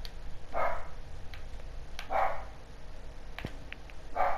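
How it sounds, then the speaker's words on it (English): A dog barks at fireworks indoors, three separate barks spaced about a second and a half apart, fairly close, over a quiet background. "Okay, I'm sure you can hear my dog barking."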